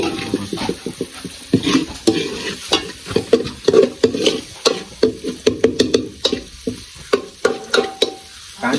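Onion and tomato roasting in a pan for Maggi, a loud close sizzle broken by rapid repeated scraping strokes of a spoon against the pan in an irregular rhythm.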